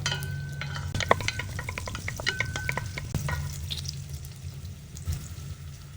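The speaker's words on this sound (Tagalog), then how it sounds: "Naglagay ulit ako ng mantika para panggisa sa ricado natin" Ginger sautéing in hot cooking oil for a vegetarian tofu vegetable soup gives a steady low sizzle, with repeated scraping and stirring clatter from a utensil in the pan close by.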